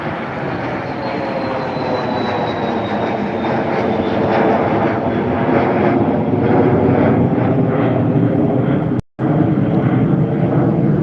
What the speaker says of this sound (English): That was an Embraer Phenom 300 heading over to Jersey